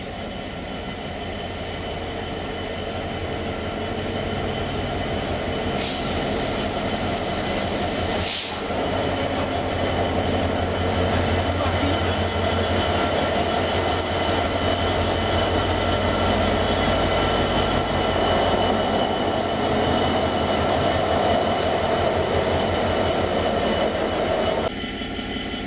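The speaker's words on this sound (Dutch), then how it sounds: "Hier komt de Class 66 van Euro Cargo Rail." A Euro Cargo Rail Class 66 diesel locomotive passing close by, giving a long, loud, steady rumble of engine and wheels, with a couple of sharp metallic squeals partway through.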